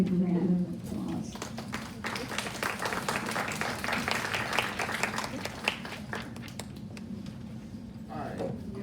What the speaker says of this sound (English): let's welcome John with a big round of applause